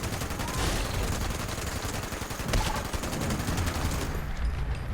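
Heavy .50 cal machine gun in Fallout 76 firing in long, dense bursts of rapid shots, loud and close, with explosive impacts mixed in throughout.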